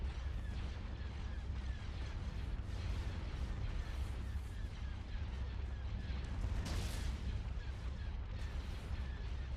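Muffled weapons fire pounds at a shield generator in the Star Wars: Empire at War strategy game. It is a steady low rumble of distant volleys with one brighter burst partway through.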